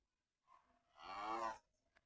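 Cow in the Minecraft video game giving a single drawn-out moo, preceded by a short grunt, clear and fairly close against silence.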